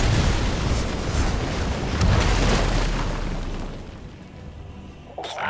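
Heavy cannon fire booms in the Heroes of the Storm battleground Blackheart's Bay, a dense roaring blast that slowly fades, with a faint thud near the end.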